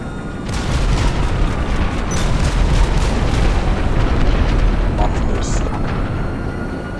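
Sustained rumbling gunfire and booms from an aircraft strafing run in GTA 5, a loud continuous barrage lasting several seconds with faint engine whine above it.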